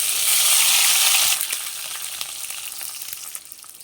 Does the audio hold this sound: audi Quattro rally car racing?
no